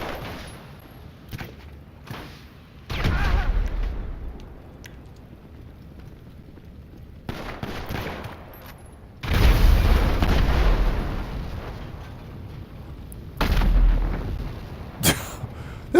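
Repeated grenade explosions in GTA 5 Online, several loud booming bursts spaced a few seconds apart, each with a rumbling tail, over a low background of game ambience.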